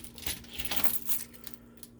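Keys jangling on a keychain carrying a compact pocket knife, a series of bright metallic clinks and rattles up close, busiest early and then thinning out, with a faint steady hum underneath.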